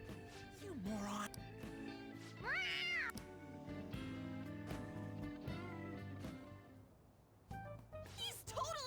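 Cat meows within the video game Persona 5 Royal, several short rising-and-falling calls amid layered game music and character voices.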